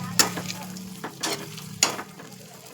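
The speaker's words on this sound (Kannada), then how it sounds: "ಆಲೂವೆರಾ, ಈರುಳ್ಳಿ ಹಾಗೆ ಮೆಂತ್ಯ ಇಷ್ಟನ್ನು ಹಾಕಿ ಕಡಿಮೆ ಪ್ರಮಾಣದ ಉರಿಯಲ್ಲಿ ಕಾಯಿಸಿಕೊಳ್ಳಬೇಕು." Aloe vera, onion and fenugreek heat in oil over a low flame, giving a soft steady sizzle with a few sharp stirring scrapes and clinks against the pan.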